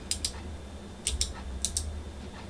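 Keys clack on a Sidecar XE85 prototype keyboard, crisp close taps coming in quick pairs and small clusters over a faint low hum.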